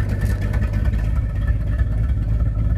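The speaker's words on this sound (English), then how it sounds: "I don't know how well y'all can hear that, but that's my 1970 Torino." A 1970 Ford Torino powered by a small-block Chevy V8 idles close by with an exhaust leak, a loud, throbbing low rumble with uneven pulses and no voices.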